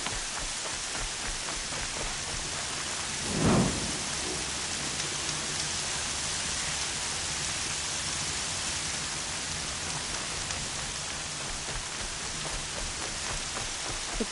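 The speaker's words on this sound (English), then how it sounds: "Rain's not so bad." Steady rainfall in the open-world video game Horizon Zero Dawn, a dense, constant hiss of falling rain with a brief louder swell near the start, holding evenly throughout.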